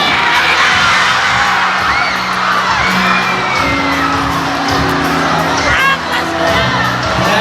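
Youth camp crowd at a highlands camp in Iba, Zambales, shouting, whooping and cheering loudly and continuously, a dense roar of many young voices with children's shouts rising out of it.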